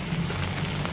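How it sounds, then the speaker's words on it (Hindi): Steady rain drumming on a roof during a stormy night with landslide damage nearby, a continuous close hiss with low rumble, no voices. "बारिश लगी है"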